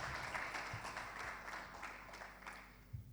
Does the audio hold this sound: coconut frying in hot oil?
no